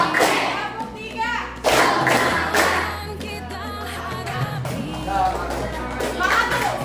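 Classroom students clapping a rhythmic call-and-response pattern, clap three, with sharp grouped claps mixed with thumps over children's voices and a teacher's calls.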